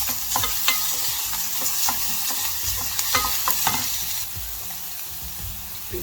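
Chopped onion frying in a small amount of vegetable oil for a Kerala dal curry, a steady sizzle with intermittent stirring scrapes and clacks of a utensil in the pan, close up and with no talk.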